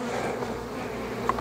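Dense, steady drone of tens of thousands of honeybees buzzing inside a large horizontal hive during an inspection, close and continuous with a few individual bees passing near.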